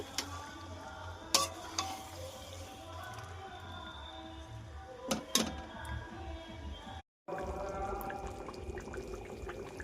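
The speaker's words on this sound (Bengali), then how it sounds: "এবার ভালো করে একটু কষিয়ে নেব।" Chicken curry being stir-fried in a pan, with scraping spoon strokes and clinks over a gentle sizzle and a low background hum, then a brief dropout before the sizzling resumes.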